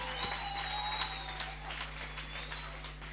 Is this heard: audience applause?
yes